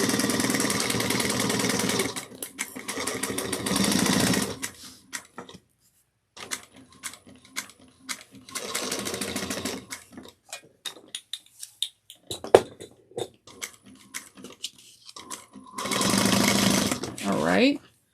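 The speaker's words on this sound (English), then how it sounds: "you want to sew this down using 3/8 of an inch" A sewing machine runs in several loud bursts of a few seconds each while stitching a bucket bag seam at 3/8 inch, with quiet gaps and talk between runs.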